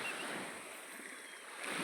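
Sea waves on the shore after a storm, a broad steady wash of surf with light wind noise, continuous and moderately distant, with no voices.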